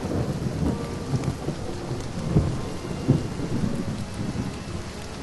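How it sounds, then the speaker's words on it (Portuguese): Heavy thunderstorm in a downpour: dense, steady rain roars throughout while several deep thunder rumbles swell and crack, the loudest near the middle and just after, with no voices. "Foi uma tempestade diabólica, negra como a meia-noite, com a chuva cerrada, trovão e raio como no dia do juízo final e um vento fustigante."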